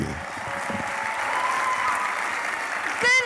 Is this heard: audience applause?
yes